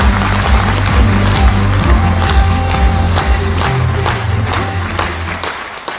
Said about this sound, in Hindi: तालियां जोरदार लगाएं।